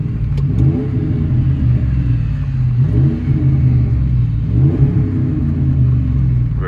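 Deep V8 exhaust rumble of a Dodge Ram 1500 with the 4.7L engine, heard from inside the cab: steady, loud low drone with slight revving swells, no talking.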